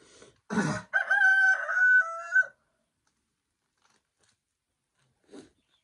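A rooster gives a single loud, close crow with a rising, sustained call lasting about two seconds, followed by silence and a brief faint sound near the end.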